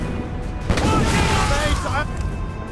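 Naval cannons boom in Assassin's Creed Rogue Remastered, a heavy broadside rumbling loud and sustained over shouted crew voices, with several overlapping blasts running through the shipboard battle.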